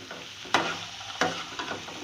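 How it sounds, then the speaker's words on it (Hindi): A spoon mixes spiced boiled black chickpeas for chaat in a bowl, with three distinct scraping strokes and a soft, moist shuffle between them, close and clear with no talk. "और इसे भी डालकर मैं बहुत अच्छी तरह से इसमें मिक्स कर दूंगी।"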